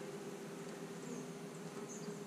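Honeybees hum inside a hive box in a dense, steady drone, close and continuous, with no other sounds breaking through.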